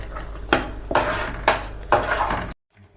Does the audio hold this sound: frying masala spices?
yes